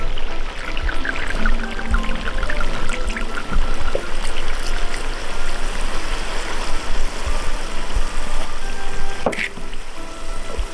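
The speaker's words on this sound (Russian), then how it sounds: "И заливаем сухим армянским красным вином." Dry Armenian red wine pours steadily into a cauldron over a roasting goose, a continuous trickling stream with faint sizzling beneath, no talk.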